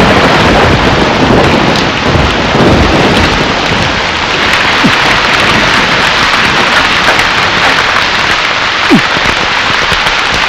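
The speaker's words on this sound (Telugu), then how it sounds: "వర్షం వచ్చేటట్టుంది" Dense, loud rain pours continuously in a film scene, with low rumbles of thunder rolling through the downpour.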